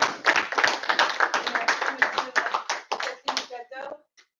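Audience applause for the president of the Deloitte Toastmasters club at a joint club session, with dense clapping that holds steady and then thins out and stops near the end. Some voices are mixed in.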